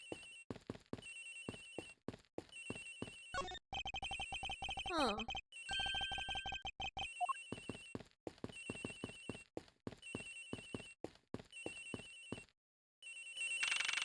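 A cell phone rings repeatedly in the Ace Attorney Investigations video game, a bright electronic ringtone looping over game music and sound effects, with a brief spoken murmur.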